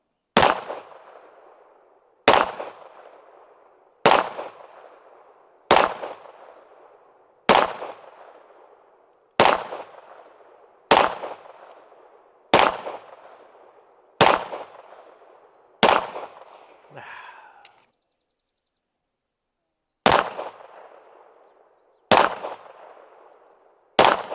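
Pistol shots from a Ranger Arms RA 9 firing CCI Blazer ammunition, about a dozen loud, sharp reports at a steady pace of roughly one every two seconds, each with a short ringing decay, broken by one longer pause before the last few shots.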